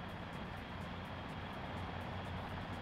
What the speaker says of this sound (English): Stefan does have himself quite a lot of these Comanches, which is also the attack helicopter from Armour 3, the Blackfoot.